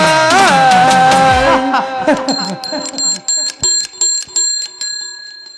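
A bright electronic chime rings in a series of evenly spaced tones after a burst of loud singing fades, clear and close.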